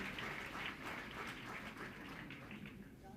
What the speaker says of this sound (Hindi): Please put your hands together.